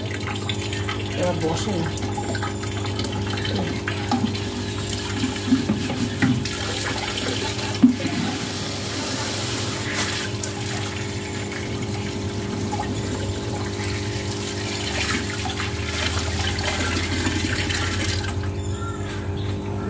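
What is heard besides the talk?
water filling from a motor pump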